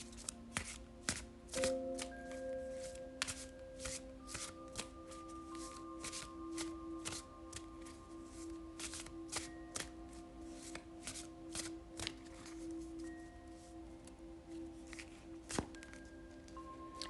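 Tarot cards being shuffled by hand, a dense run of crisp riffling flicks and soft taps repeating for many seconds, close and fairly quiet, with a faint musical drone underneath.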